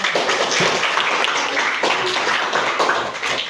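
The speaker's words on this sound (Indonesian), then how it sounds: "tepuk tangan" Classroom applause from students, a brief dense patter of many hands clapping at once, close and fairly loud, with no pauses over a few seconds.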